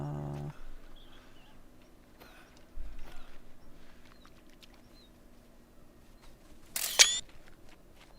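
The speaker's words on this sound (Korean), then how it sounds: "사진을 찍어 봅시다" A single camera shutter click sounds near the end as a photo is taken of a Bengal tiger in a hunting video game, preceded by quiet ambient rustles and a few soft thumps.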